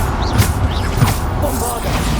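Spell blasts from Bombarda cast in Hogwarts Legacy, heard as repeated whooshing bursts and thuds over dense, busy battle noise with no clear pause between hits.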